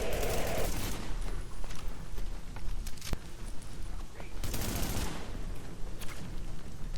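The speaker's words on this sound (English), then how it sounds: "Trying to do a bit of burst fire," Burst gunfire in The Division video game, short rapid volleys of shots rattling in clusters with mechanical clicks between them, loud and close, while a voice talks over the action.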